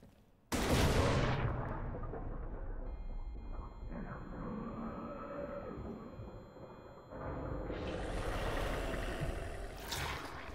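A grenade explosion in the horror game Amnesia: The Bunker bursts loudly at the start, then a long rumbling decay with a low drone, and a second roaring blast swells near the end; no speech.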